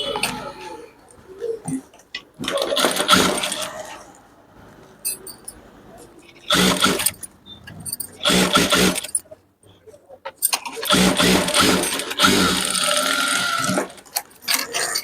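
A sewing machine stitches a blouse in bursts of fast mechanical clattering separated by pauses, with someone talking between and over the runs.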